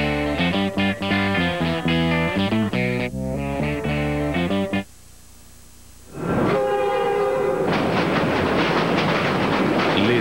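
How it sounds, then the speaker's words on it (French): A Via Rail passenger train sounds its horn in loud, tonal blasts, drops briefly quiet, then returns as a roaring rush along the tracks. "Voyage à bord des trains de Via Rail."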